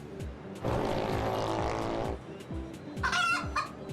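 Cartoonish chickens cluck in the Enterprise Yourself app game, set in a busy market scene. A loud burst of background noise comes first, then a short, quick run of clucks near the end.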